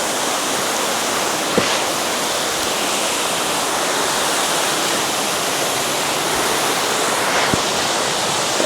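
Steady, full roar of a waterfall at a nature park with a lifeguard on duty and clear water, a continuous broadband rush of falling water that stays even and close throughout, with no talk.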